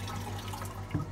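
A toilet cistern refills with water in a steady, close hiss and rush of running water, with a low hum underneath and a brief knock near the end.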